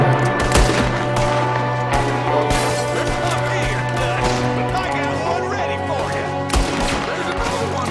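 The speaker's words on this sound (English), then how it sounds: "there's another one shooting from the window" Repeated gunshots crack in a Red Dead Redemption 2 shootout as an enemy fires from a window, sharp reports scattered over nearly eight seconds beneath a sustained musical drone and voices.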